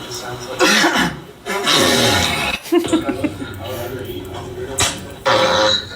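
A few harsh coughs and throat-clearing sounds close up, mixed with bits of chuckling and talk.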